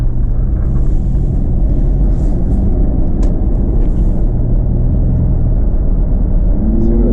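A 2002 Chevy Blazer with a 4.3 engine idles steadily, a constant low rumble and whir running unbroken throughout, fairly loud and close, with no talk over it.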